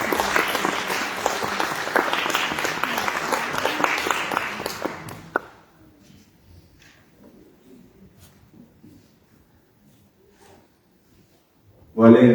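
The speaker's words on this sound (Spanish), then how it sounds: "Un aplauso de bienvenida." A conference audience at a Latin American early-childhood education panel gives a warm welcoming round of applause, dense and sustained for about five seconds before stopping abruptly, followed by quiet room noise and a voice starting at the end.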